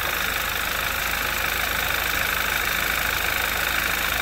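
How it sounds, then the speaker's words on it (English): A 2011 Audi TT Quattro 2.0T TFSI engine, recently repaired after engine damage, idles steadily up close with a faint clicky ticking running through its even hum. "it's a little clicky, but I also am not that familiar with how these motors are supposed to sound"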